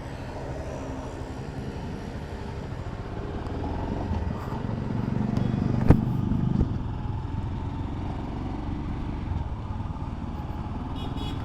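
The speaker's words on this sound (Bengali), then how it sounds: "ফার্স্ট বাইকটা ক্র্যাঙ্ক করি" A Royal Enfield Scram 440 motorcycle engine, just after its first service, turns over and catches with a brief surge, then settles into a low, steady idle rumble.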